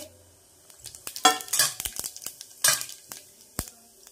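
Mustard seeds and cumin hit very hot oil for a tempering, giving bursts of crackling sizzle and popping, with sharp clinks of a spoon against the pan.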